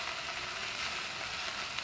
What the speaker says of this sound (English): I'm going to let that fry same heat for about another three minutes or so.